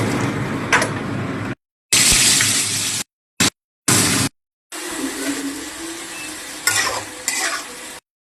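Potato and vegetable stems frying in a pan with salt: close, steady sizzling and stirring scrapes, split into several bursts by abrupt silent gaps.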